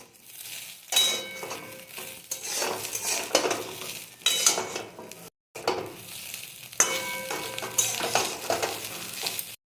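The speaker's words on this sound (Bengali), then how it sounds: "চাউমিনটা দিয়ে এবার মিক্স করছি।" Chow mein noodles tossed and stirred in a hot pan, with a utensil scraping and clattering against the metal in irregular bursts over a light sizzle, close up, with one brief pause midway.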